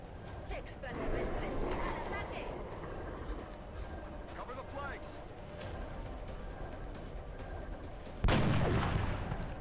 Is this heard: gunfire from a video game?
yes